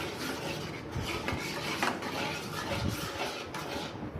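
Steady scraping and rubbing of a spoon stirring thick pearl millet porridge in a pot over medium flame, continuous with small bumps against the pan, no talking.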